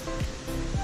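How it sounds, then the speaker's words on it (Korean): Meltwater from Alpine snowfields tumbles down a waterfall, a steady broadband rush of falling water and spray with a couple of brief low splashes, moderately close and without voices. "만년설이 녹은 폭포 소리도 적당한 물튀김도 너무 시원합니다."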